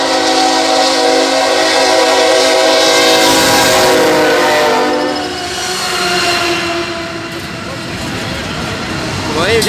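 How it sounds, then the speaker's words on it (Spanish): A train rolls loudly past at close range, its horn and wheel rumble filling the first half before it slows under braking, with thinner squealing tones and a lower rumble as it nears a stop. "ahí viene otra vez el tren."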